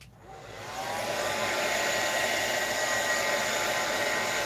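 A hair dryer or heat tool blows steadily to dry glue on a junk mail envelope being made into a mixed media library-style envelope, starting with a brief click and ramping up into a loud, continuous close whoosh with no talking.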